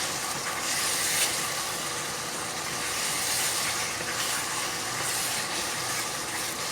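Whole green chilies hit hot oil in a pan of nearly softened potatoes and spinach, giving a steady, loud broadband sizzle and hiss that holds for several seconds with slight swells and no voices.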